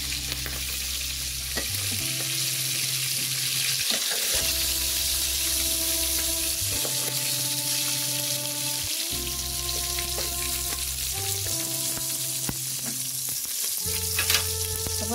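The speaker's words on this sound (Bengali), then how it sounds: "মাছের মাথাটা ভাজা হয়ে গেছে।" A fish head fries in a pan with a loud, steady sizzle and occasional stirring scrapes, while a low droning hum comes and goes underneath.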